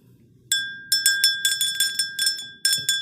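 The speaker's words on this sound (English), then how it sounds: "Let's ring this bell." A small bell rung repeatedly during a spiritual reading, its bright ringing strikes arriving in quick irregular bursts, each one sustaining and decaying, close and clear over a quiet background.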